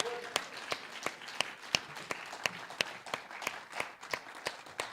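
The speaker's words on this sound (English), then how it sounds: "And this applause is all for Renzo, too." An audience claps at an afternoon tribute event, sparse and fairly faint, with separate sharp claps falling in a steady, loose rhythm rather than a full roar.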